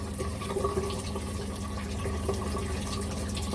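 Running water from a tap splashes steadily over hands being rinsed at a sink, a continuous close wash with no talking.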